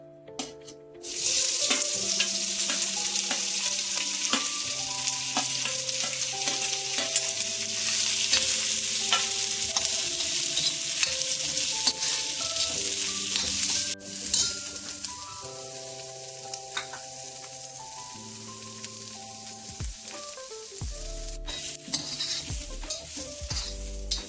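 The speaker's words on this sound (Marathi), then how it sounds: "मी कांदा टाकते।" Onion dropped into a hot pan hisses into a loud, continuous sizzle, with stirring clinks and tones from a nearby appliance under it, tapering off near the end.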